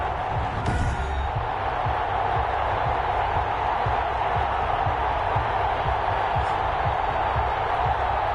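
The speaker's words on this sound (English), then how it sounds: "This crowd is ready as their guys get set to match up between the Miami Dolphins and the Buffalo Bills." Stadium crowd noise from a video game broadcast of an NFL football game between the Miami Dolphins and Buffalo Bills, a loud, steady roar of cheering fans heard continuously.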